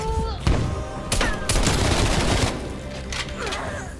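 MP5 submachine gun fire in the video game Call of Duty Black Ops Cold War, rapid automatic bursts in several close, loud strings with game effects between them.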